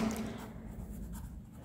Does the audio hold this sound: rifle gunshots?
no